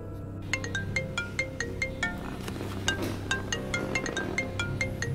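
A mobile phone rings with an incoming call, a bright repeating ringtone melody of evenly spaced chiming notes, fairly loud and heard over a faint background music bed with no talking.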